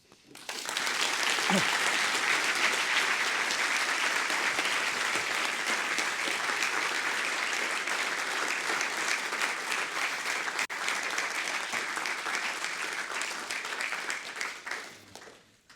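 A lecture hall audience breaks into sustained applause after a talk, many hands clapping steadily and evenly for several seconds before the sound tapers off at the end.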